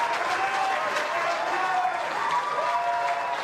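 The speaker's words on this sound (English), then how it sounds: "Newtown crowd celebrating her" Stadium crowd at a women's A-League football match, Canberra United against Newcastle Jets, applauding a player's debut as she comes on as a substitute. Steady, dense applause holds for the whole stretch at even loudness, with no voices over it.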